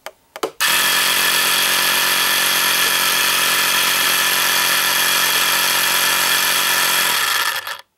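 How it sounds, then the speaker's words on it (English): Homemade electric vacuum pump running with its valve fluttering, a loud, steady buzzing drone that starts abruptly, holds for about seven seconds and then cuts off, with no speech. "You can actually hear the valve here flutter."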